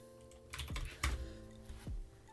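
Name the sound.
typing on a computer keyboard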